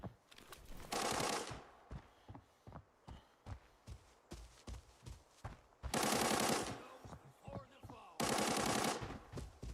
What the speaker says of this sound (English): What looks to be a gunfight between a potential TAC Ops team and bots